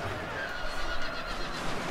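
Horses neigh and whinny amid the clamor of a Shogun 2 video game battle, with a continuous wash of fighting noise over a short stretch and no clear speech.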